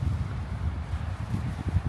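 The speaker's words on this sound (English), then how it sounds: "It's very windy down here." Low, gusty wind buffets the microphone, rumbling and fluttering unevenly in the low end with no voices.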